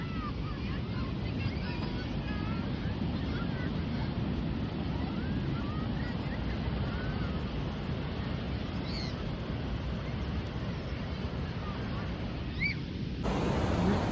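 Surf washing ashore at Nahoon Beach in East London on a cold evening, a steady broadband roar with wind buffeting the microphone throughout and a few faint distant sounds over it.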